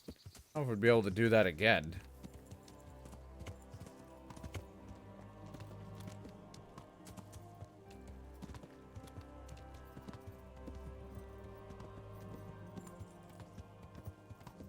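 Horse hooves clip-clop in a quick, loud burst near the start while riding in the video game Kingdom Come: Deliverance, then fade under someone talking.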